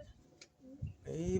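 A pigeon coos in a loft, soft low throaty calls close by, rising at the end, with faint room noise and brief voice sounds.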